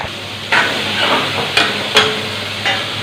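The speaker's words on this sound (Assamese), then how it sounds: "এইখিনি মই তেল মাৰি লওঁ।" Ingredients dropped into hot oil for tempering while cooking soybean curry and lentils with jackfruit seeds, giving a steady close sizzle with several sharp crackling bursts as more goes into the pan.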